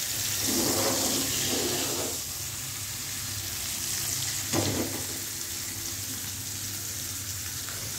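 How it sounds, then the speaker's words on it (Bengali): Pangas fish pieces fry in oil in a wok, a continuous close hiss and sizzle with swelling bursts of spitting near the start and midway. "সেজন্য পাঙ্গাস মাছগুলো আগে ভেজে নিব।"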